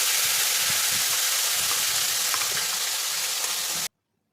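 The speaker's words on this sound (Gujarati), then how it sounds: "આપણે જે પેસ્ટ બનાવેલી હતી એ પેસ્ટ એડ કરી દઈશું" Spice paste sizzles and fries in hot oil with dried red chilli, bay leaf and asafoetida for a Gujarati potato curry, a steady close crackling hiss with small pops and stirring, no talk, ending abruptly in silence.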